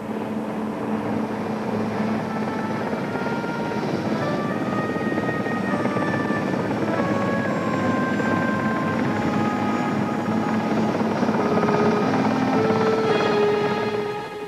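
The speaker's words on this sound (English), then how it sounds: "Helicopters managed to rescue a number of people from life rafts and lifeboats." Rescue helicopters hover over a sea rescue of people from life rafts and lifeboats. The rotor drone is steady and moderately loud and holds for the whole stretch, with engine tones that shift slightly and no speech.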